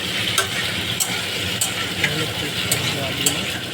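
Pasta and onions fry together in a hot pan, giving a steady sizzle with a few scrapes as a utensil stirs them; there is no talk.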